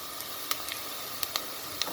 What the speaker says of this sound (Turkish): soğanla biberimiz kavruluyor